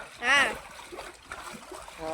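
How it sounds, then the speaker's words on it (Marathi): Water splashing and sloshing as it is stirred inside a concrete water tank being cleaned of algae, one loud splash near the start then softer trickling, with people talking over it. "अरे तू ते कर ना असं ढवळ ना पाण्याला असं ती कर"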